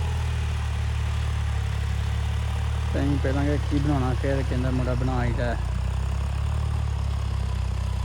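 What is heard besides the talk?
tractor engine idling while warming up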